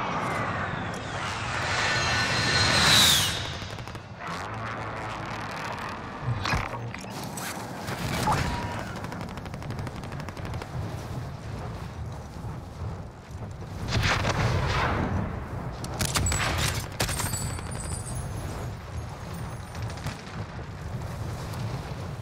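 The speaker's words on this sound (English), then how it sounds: "Friendly precision airstrike inbound." Precision airstrike in Call of Duty: Warzone, with aircraft engine roar passing overhead followed by heavy rumbling blasts, loud and dense across the whole stretch with repeated swells.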